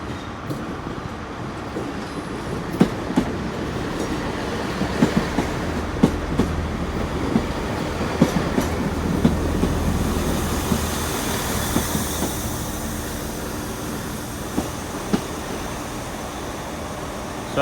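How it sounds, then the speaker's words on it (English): A Great Western Railway class 166 unit, a service to Paignton, pulls into Exeter St David's on a Saturday evening, a steady rumble with intermittent wheel clicks over rail joints and a soft hiss, no talk. "It's a Great Western Railway service to Paignton. Oh, it's a return of the 166 213."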